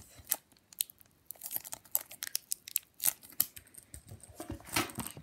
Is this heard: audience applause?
no